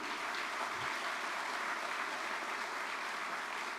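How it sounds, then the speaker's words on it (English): An audience at a sports awards ceremony keeps up steady applause, a dense continuous wash of clapping from a large crowd in a hall, fairly faint and even throughout. "Let's also keep the applause going"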